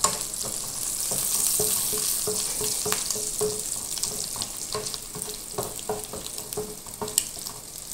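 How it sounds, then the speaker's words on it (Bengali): Dried shrimp frying in oil in a pan, a constant crackling sizzle with regular scrapes and knocks of a spatula stirring through it, close by and without talk. "এখানে দিয়েছি চিংড়ি মাছের শুটকিটা একটু তেলের সাথে ভেজে নিব"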